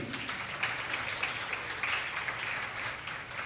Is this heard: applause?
yes